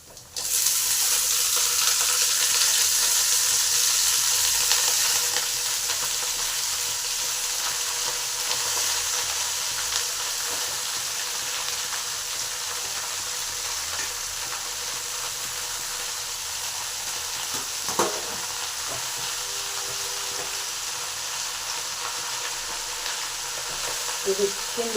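Curry leaves frying in a pan and being stirred, with a steady loud sizzle that eases slightly after the first few seconds, broken by occasional soft scraping and clinking.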